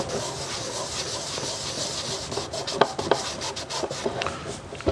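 Abrasive scuffing on a shiny resin and wood blank on a woodturning lathe, a steady rasping rub with a few sharper scratchy strokes toward the end, close and moderately loud with no talking.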